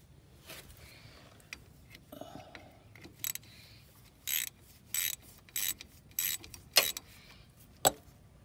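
A wrench works a 9/16 bolt loose on the rear brake caliper of a 2006 Lincoln Town Car, giving a series of sharp metallic ratcheting clicks and scrapes, close and fairly quiet.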